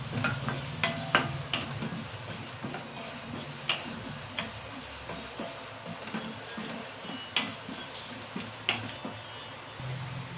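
Spices with fenugreek fry in a pan for idli sambar, a steady soft sizzle broken by frequent scraping stirs and sharp ticks of a spoon against the metal, fairly close and moderately quiet.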